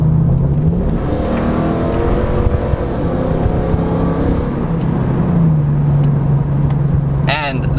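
A Ford F-150 with the 5.0 engine accelerating on a freeway: a loud, close engine note that climbs in pitch through the gears over road and wind noise, with someone talking throughout.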